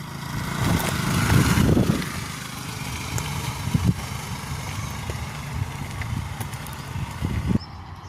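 A petrol two-wheeler ridden by a learner at a driving school in Nagole, its engine hum steady and close with a louder swell early on, then running on at a moderate level.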